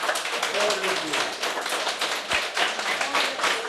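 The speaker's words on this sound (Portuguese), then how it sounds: "Então dá uma salva de palmas para Jesus Cristo." A church congregation claps for Jesus Christ, a dense, steady burst of many hands applauding together for a few seconds with no voices over it.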